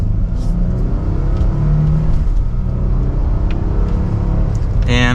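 A 2024 Nissan Frontier PRO-4X pickup accelerates hard in second gear in manual mode, its engine note rising steadily and loud throughout, with a brief higher whine near the end.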